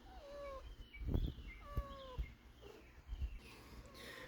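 A neighbor's cat meows outdoors near a grill, giving several short, faint descending mews spread across a few seconds. Low thumps and soft background noise sit beneath them, with no talk.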